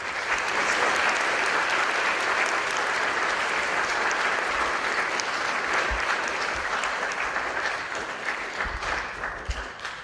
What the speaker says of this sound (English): let's just give a warm round of applause